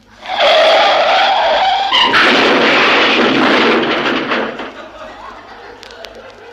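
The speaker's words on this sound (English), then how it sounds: "his driver expertly pilots the squad car into an occupied loading zone" A police squad car skids to a stop in a radio drama sound effect, with a loud sustained tyre screech that cuts off into a rumbling settle and fades toward quiet.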